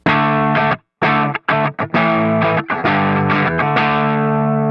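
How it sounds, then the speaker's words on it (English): Distorted electric guitar strummed across all six strings while the index finger mutes the unfretted ones, so only two fretted notes ring through; loud chugging strums with brief choked gaps and a slightly percussive attack, played alone. "So you can pick all 6 strings, but only the 2 notes that you're fretting will come through."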